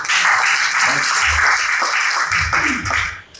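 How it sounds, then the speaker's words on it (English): Audience applause at a Borneo business talks event, dense and steady throughout, with some low murmuring and a brief voice under the clapping near the end. "Please give yourself a big round of applause."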